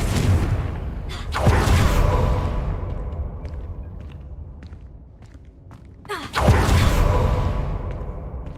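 Two blasting-spell explosions from Confringo in Hogwarts Legacy, each a loud sudden boom with a whooshing burst that fades over a few seconds, separated by quieter rumble and small thuds.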